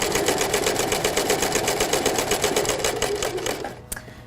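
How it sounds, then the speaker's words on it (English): A domestic sewing machine stitching fabric in a fast, even mechanical rattle at close range, running steadily before slowing and stopping with a final click. "I'm going to put my fabric in, and then I'm going to sew all the way down again"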